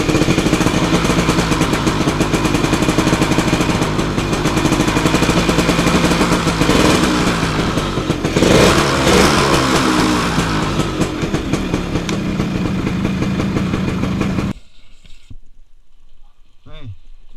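An old Suzuki RC 100 motorcycle under restoration runs with a loud, close, rattling two-stroke engine sound, holding steady with a brief rise in revs before cutting off abruptly near the end, leaving faint background noise.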